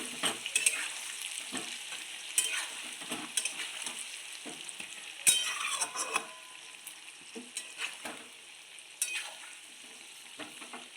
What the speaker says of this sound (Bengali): এবার এই পেঁয়াজ কাটাটা দিয়ে দেবো। দিয়ে একটু নাড়বো।